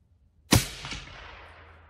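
Single suppressed rifle shot on a range during barrel break-in, a sharp close crack followed by a short echoing tail that fades over about a second, with no voices.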